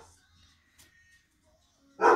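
A dog barks at a snow plow driving down a snowy road, one loud close bark bursting out at the end after near silence with faint earlier noises.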